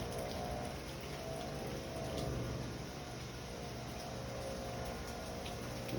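Pressure washer rinsing pre-treated, moldy green siding on the back of a house, a steady, moderately faint hiss of spraying water held evenly throughout.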